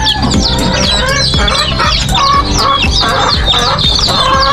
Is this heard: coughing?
no